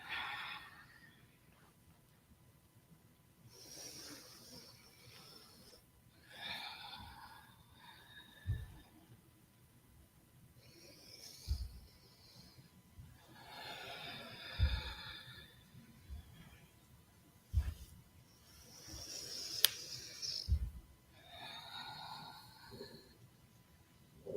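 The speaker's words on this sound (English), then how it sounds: "Inhaling towards the right and exhaling towards the left." Slow, deep breathing during a guided breathing exercise, long airy inhales and exhales alternating in a steady unhurried rhythm, close and soft, with a few faint thumps between breaths.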